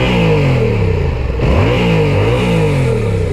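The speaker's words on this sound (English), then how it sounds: "I'll give the exhaust a little blip so you can kind of hear it through the GoPro." A Yamaha MT07 motorcycle's exhaust is blipped at standstill, the engine note rising sharply and falling back in a couple of loud, close revs over a rumbling idle.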